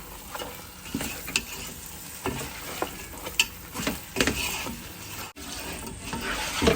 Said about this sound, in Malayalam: ചിക്കൻ ഇട്ട് കൊടുത്തതിന് ശേഷം നമ്മുടെ ചിക്കൻ മസാലയുമായിട്ട് നല്ലവണ്ണം നമുക്കൊന്ന് ഇളക്കി കൊടുക്കാം